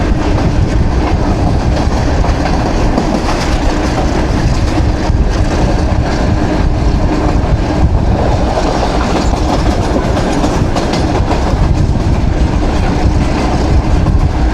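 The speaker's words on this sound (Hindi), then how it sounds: "भी ट्रेन हमारी गुजर रही है हरिया रेलवे स्टेशन से" Train rolling through Haria railway station on the route to Khewra, a loud continuous rumble with steady clickety-clack of wheels over rail joints, close and sustained throughout.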